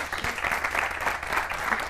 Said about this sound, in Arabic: تصفيق له، ما قصر، تصفيق له